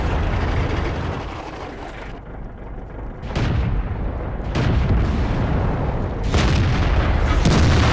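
IS-2 heavy tank cannon fire and shell impacts on enemy armor in World of Tanks on the Fjord map, a series of loud booming blasts with rumbling battle noise between them.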